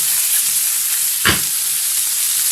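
A lamb chop sizzles in a hot pan after being flipped, giving a steady loud frying hiss with one brief sharp burst in the middle as the meat is turned, heard up close and alone.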